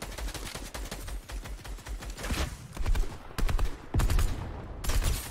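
Rapid gunshots in a Fortnite duo cash cup match: dense, loud bursts of automatic fire with a few sharp single cracks, close and continuous through the clip.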